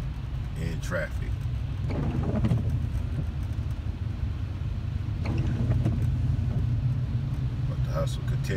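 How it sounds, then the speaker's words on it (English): Heavy rain during a drive through Southern California traffic, a steady loud wash and low car rumble throughout while someone talks over it. "It's raining like a motherfucker out"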